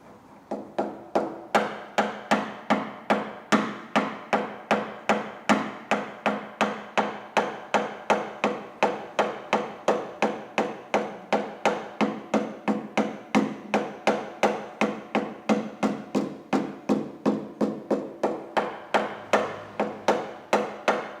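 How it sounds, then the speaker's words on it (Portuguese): Steady, rapid hammer taps on a dented car body panel during paintless dent repair, dozens of evenly spaced metallic strikes close by and fairly loud, continuing without pause and with no talking. "estou preferindo usar o martelo"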